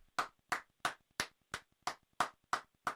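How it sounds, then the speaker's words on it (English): A single person claps about nine times in a steady, even rhythm, each clap crisp and close, with no voices. "A few claps for you."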